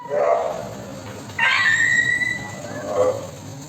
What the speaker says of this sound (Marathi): कुत्रा होता का सुनील शेट्टी होता ते आपल्याला कळलं नाही, पण ओरडला एकदम भारी आहे, अंजली।